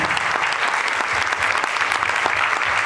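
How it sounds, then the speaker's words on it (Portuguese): An auditorium audience applauds loudly at the end of a lecture, with a close, dense burst of clapping that carries steadily throughout. "Vamos aplaudir, pessoal."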